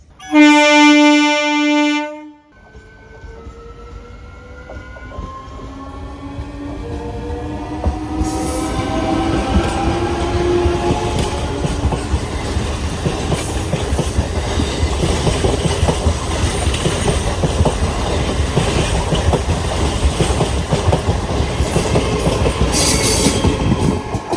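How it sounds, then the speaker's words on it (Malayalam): MEMU electric passenger train on the Ernakulam–Kollam run via Kottayam pulls into an island station, a loud horn blast opening before steady rolling rumble, clattering wheels and squeal build and hold close by. "ഇപ്പോൾ ഒരു മെമ്മു വരുന്നുണ്ട്."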